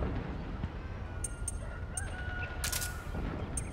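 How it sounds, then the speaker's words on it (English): Rooster crowing in the stealth video game Metal Gear Solid 4, several short bright calls heard at a distance over a steady ambient background rumble, with no talking. "I hear a rooster."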